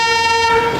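A train horn sounds at Rameswaram railway station, one sustained, loud, steady tone heard close by for under a second.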